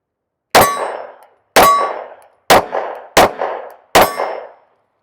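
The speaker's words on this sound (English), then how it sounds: "Let's start with the SIG 365 Legion." SIG P365 AXG Legion pistol firing five loud, sharp shots at a range, each a hard crack with a ringing decay, spaced about a second apart with the last two closer together.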